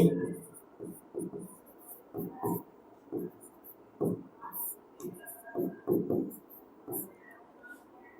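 Chalk or marker taps and scrapes on a classroom board during a maths lecture, a series of short irregular strokes at moderate volume, mostly without talk.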